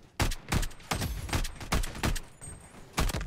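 Sharp gunshots from the video game Bloodstrike ring out in a quick, uneven series of about ten loud, close reports, each with a brief echoing tail, and no voices over them.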